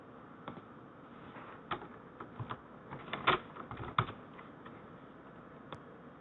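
Keys on a computer keyboard tapped in short irregular bursts, close and fairly quiet, as an email address and password are entered, with no talking.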